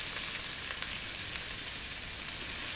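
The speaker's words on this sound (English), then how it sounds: "You can hear that sizzle." Steady, loud sizzling and crackling from beef rouladen browning in a hot pot, continuous throughout.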